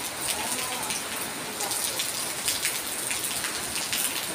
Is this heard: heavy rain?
yes